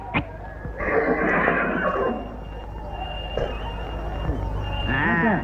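A horse at a village horse race gives a loud, wavering whinny near the end, after a stretch of crowd noise and talk.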